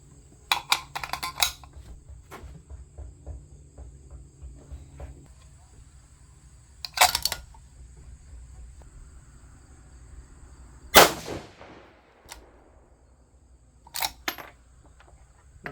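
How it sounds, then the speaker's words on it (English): Rifle shots from a 6mm GT loaded with Berger 105 Hybrid Target bullets: several sharp, loud cracks spaced seconds apart, one with a longer ringing decay, over quiet background. "We're going to go ahead and shoot these next three."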